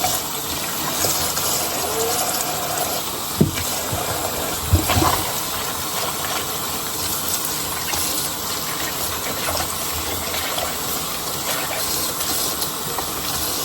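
Tap water runs steadily while dishes are washed in a countryside home kitchen, a continuous close hiss and splash with a couple of brief clunks of items being handled.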